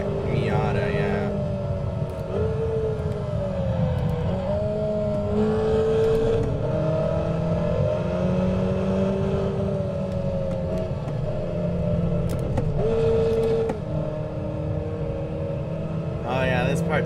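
A stock Mazda Miata engine drones steadily in a racing video game, its pitch rising and falling through gear changes over about seventeen seconds, with someone talking over it.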